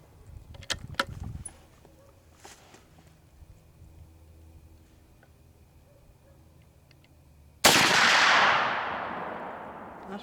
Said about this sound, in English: These are a smooth shooting and light recoil, which is what they're advertised to be.